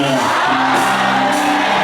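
A church congregation shouts together loudly and continuously, a dense crowd roar of raised voices with whoops rising over it.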